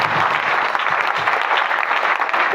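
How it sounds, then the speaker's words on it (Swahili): A church congregation at a Sunday service breaks into loud, sustained applause, a dense wash of many hands clapping at once with no break, close and filling. "Upe Yesu makofi mazuri"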